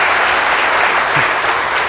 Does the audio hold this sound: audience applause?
yes